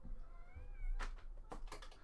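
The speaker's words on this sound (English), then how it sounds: "I have a kitty cat on the table." A cat sitting on a table gives a faint, drawn-out meow over a low background rumble, followed by a few soft scraping or tapping noises.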